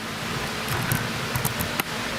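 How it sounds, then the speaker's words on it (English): An electric fan and air conditioner run indoors on a hot day, giving a steady close broadband whoosh with a low hum, broken by a few soft clicks and handling knocks; no one speaks. "sorry about the fan noises"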